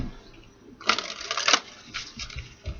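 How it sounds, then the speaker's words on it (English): Fortune-telling cards are shuffled by hand in a quick riffling burst of papery flutters and snaps, close and alone, with a second shorter flurry after a pause. "1 more shuffle."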